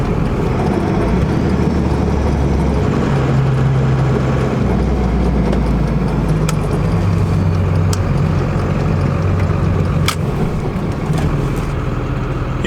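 Loud continuous engine drone and road rumble from a 12-valve Cummins diesel truck driving on its first run after new injectors, heard from inside the cab, steady with small shifts in pitch and a few clicks.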